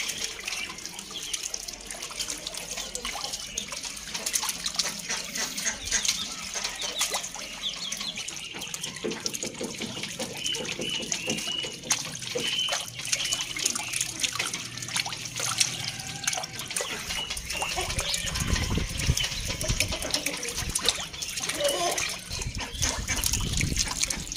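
Small ducklings splash and paddle in a shallow basin of water, a steady close trickling and sloshing that runs continuously without pause.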